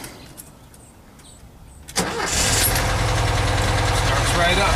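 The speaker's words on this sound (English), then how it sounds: "Proper way to start the carbureted vehicle is" A carbureted vehicle engine starts after quiet, catching abruptly and settling into a loud, steady idle close by, with a voice talking at the start.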